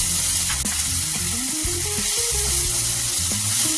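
Ginger, onion and tomato paste with spices frying in oil in a pan for an elephant foot yam and prawn curry, giving a loud, continuous close sizzle with occasional stirring scrapes and a tonal hum underneath, no talking.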